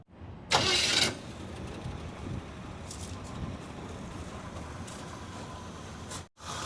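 An old 1950s big rig truck with a V8 engine runs steadily, a brief louder burst near the start settling into a continuous mid-pitched idle rumble that carries on without talk.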